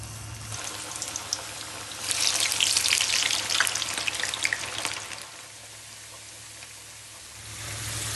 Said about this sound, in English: We'll start by deep frying thinly sliced potatoes and onions in a pan.